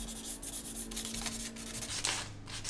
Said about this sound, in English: I'll just kind of sand a little bit harder on the front there, bring a little bit more of that blue out.